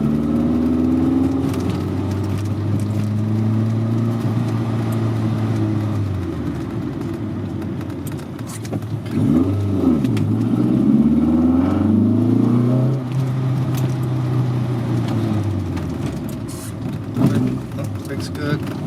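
A 1983 Volkswagen Rabbit GTI engine pulls steadily while driving. Its drone rises and falls with gear changes, heard loud from inside the car with the occasional road thump.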